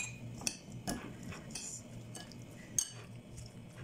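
Cucumber salad being tossed with salt, black pepper, lemon and olive oil, soft clinks and scrapes of a utensil against a bowl in an irregular rhythm, quiet and close, with no talk.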